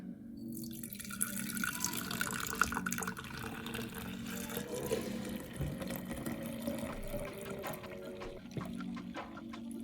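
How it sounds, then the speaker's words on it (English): Fresh sugarcane juice is poured into a jar, giving a steady trickling and splashing of liquid that runs continuously and fairly quietly from start to finish. "now I'm just gonna dump this right into the jar"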